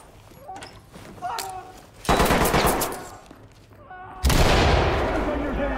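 Heavy gunfire in Ready or Not during a tactical room-clearing raid in a school, with a couple of sharp shots early, then two loud sustained automatic bursts.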